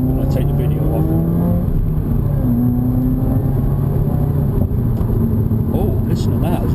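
A 2016 Subaru WRX with a Nameless axle-back exhaust drones and revs as it accelerates, a loud steady engine note with rising pitch under someone talking throughout.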